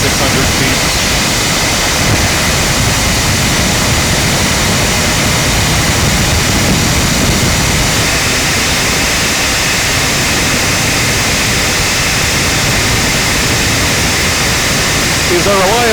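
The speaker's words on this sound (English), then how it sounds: "These are reliable engines, so an engine failure is very unlikely" Ultralight trike aircraft engine droning steadily in level flight at about 2,600 feet, a loud continuous roar with rushing wind filling the whole clip.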